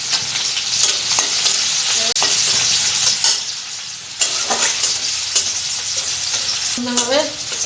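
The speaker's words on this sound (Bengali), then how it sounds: "লাল লাল করে ভেজে নেব" Chopped onion, garlic and chili fry in a pan with a steady loud sizzle. A spatula stirs and scrapes now and then, and a few brief squeaky sounds come near the end.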